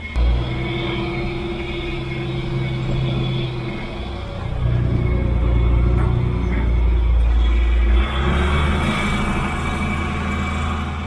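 A farm vehicle drives off to fetch a spool of drainage tile, its engine a steady low rumble that grows louder and rougher midway, then eases to a lower drone.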